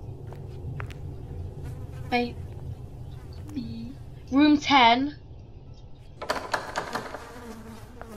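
Bees buzz in the Roblox horror game The Asylum, a steady low drone running through the scene beneath short bursts of people talking.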